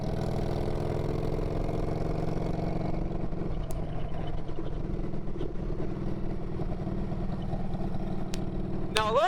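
An Orange County Chopper motorcycle engine idles up close with a nearly non-existent exhaust, a steady loud low rumble running throughout with a brief rising rev near the end.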